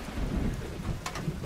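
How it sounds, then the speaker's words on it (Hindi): Rain pours steadily in a thunderstorm, with a deep low rumble of thunder under the hiss and a couple of sharp spattering bursts near the end. "बारिश हो रही है"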